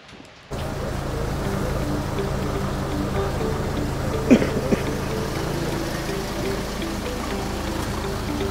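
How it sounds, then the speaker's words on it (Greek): Rain falls steadily in a stone mountain village in Western Macedonia, a continuous broadband hiss and patter that starts abruptly and stays even, with a brief louder splash or knock midway. "βρέχει"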